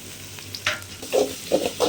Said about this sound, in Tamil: இப்போ இஞ்சி பூண்டு பேஸ்ட் போட்டு நல்லா வணக்கிடுங்க